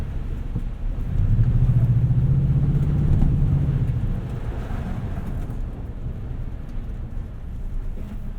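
A 2020 Toyota Tundra TRD Pro CrewMax with a 5.7L V8 drives on the road, heard from inside as a steady low rumble of engine and tyres that swells into a stronger drone, then settles.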